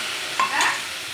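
A spice paste of chili powder, turmeric and salt hits hot oil, producing a brief close hiss and sizzle with a soft stirring scrape.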